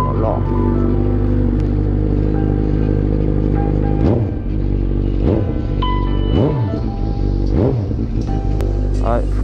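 Suzuki GSX-R sport motorcycle engine warming up, a steady loud idle rumble close by with several quick throttle blips rising and falling across the clip.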